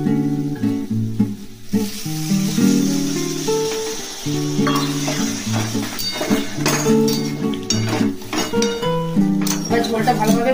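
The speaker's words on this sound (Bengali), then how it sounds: "এবার আমি এতে পরিমাণ মতন জলটা দিয়ে দেবো" Sizzling hiss from well-fried Bengali masala as water is poured into the hot pan, with steady background music and some utensil clinks running throughout.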